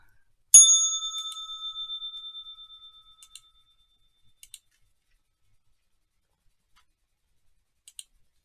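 A single bright bell strike rings out and decays slowly over about three seconds, followed by a few faint isolated clicks, with no talking.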